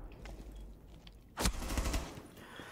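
Gunfire in Rainbow Six Siege during a competitive Six Invitational match: a loud burst of rapid shots erupts partway through, trailing into further scattered fire over low background noise.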